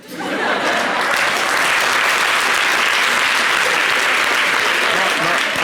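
A crowd applauds steadily at a lively televised talk show, dense clapping mixed with a little laughter rising quickly and holding loud and full throughout.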